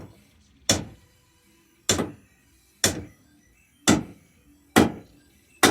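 Six sharp metallic hammer taps on a car bumper land roughly once a second, each ringing briefly before fading into quiet.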